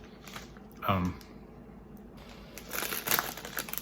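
Crunchy bites and chewing of Satellite Wafers, light styrofoam-like wafer candy with little candy beads, with a few short crisp crunches near and close up, between pauses and background sounds.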